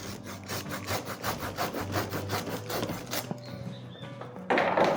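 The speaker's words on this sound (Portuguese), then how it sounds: "Passar a mão num serrote aqui, ó." A hand saw cuts through a camellia branch being shaped for bonsai, giving quick, even back-and-forth rasping strokes up close, then stops and leaves a few light knocks and rustles.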